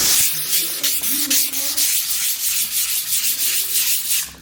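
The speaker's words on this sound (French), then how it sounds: "en fait il faut que je ponce" Rhythmic back-and-forth rasp of a 240-grit sanding block rubbed by hand over damaged furniture during renovation work, close and steady, with no talk.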